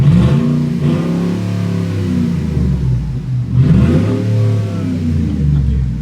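A Ford Raptor V8 truck exhaust rumbles loudly nearby, revving up and down in repeated swells with a deep, throaty growl throughout.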